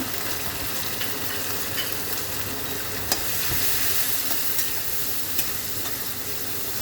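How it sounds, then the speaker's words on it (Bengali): Onion frying in oil in a pan, a continuous crackling sizzle with a few small stirring clicks, close and steady, with no talk. "পেঁয়াজটা এখন একটু ভাজা হবে"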